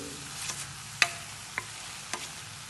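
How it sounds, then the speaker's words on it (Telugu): Ridge gourd pieces with garlic and chili frying gently in a pan under a quiet hiss, punctuated by four sharp, evenly spaced taps of a spoon against the pan. "కూర అంతా కలుపుకుందామండి ఎల్లిపాయి కారం అన్నీ ఫ్రై అవ్వాలి బీరకాయ ముక్కలతో పాటు"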